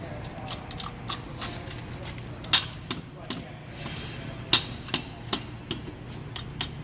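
Sharp metallic taps and knocks ring out at irregular intervals as a Hunter self-centering wheel adapter is kicked and tapped while being tightened, several louder strikes standing out above a low background hum.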